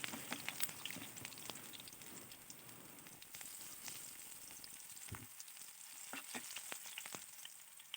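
Onion and garlic fry in a pan, a soft steady sizzle with occasional crackles and stirring clicks, quiet and continuous throughout without any speech.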